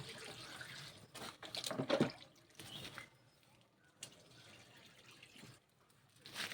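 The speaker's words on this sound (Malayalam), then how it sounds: "ഇത് കൂടെ കുറച്ച് ഒഴിച്ച് കൊടുക്കട്ടെ" Organic slurry is poured by hand onto a cucumber plant, making a faint, close liquid splashing and trickling in a few short bursts separated by quiet gaps.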